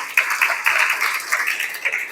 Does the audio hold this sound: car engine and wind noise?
no